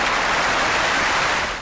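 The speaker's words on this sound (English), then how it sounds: "I'd still much prefer to listen to their clunky commentary than this ear-splitting crowd audio bug" Ear-splitting crowd audio glitch from the Cricket 26 video game, a loud, harsh wash of crowd noise sustained throughout before tapering at the very end, with no talk.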